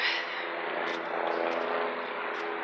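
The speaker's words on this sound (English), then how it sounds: "that's a helicopter going by." A steady, droning helicopter hums overhead at moderate distance in Pittsburgh, its rotor noise holding constant throughout without fading.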